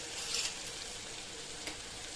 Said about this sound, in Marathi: मसाला छान परतून घ्यायचं